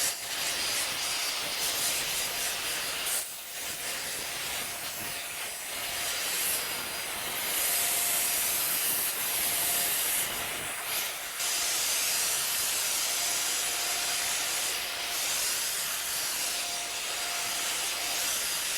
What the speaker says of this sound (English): So let's get a wet coat down of the Dip Pearl top coat with the Ultimate.